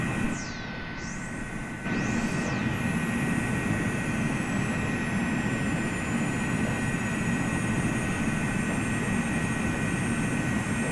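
MD83 jet engines in Microsoft Flight Simulator 2020 give a loud, steady roar with a high whine that rises and sweeps early on, then holds constant throughout.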